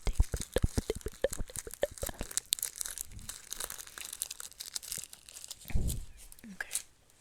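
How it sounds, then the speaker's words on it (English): Medical tape is torn off a roll during a mock dental exam, producing a quick run of sharp ripping and crinkling snaps, close and soft, followed by scattered rustles and faint breathy mouth noises. "And I'm just gonna tape it"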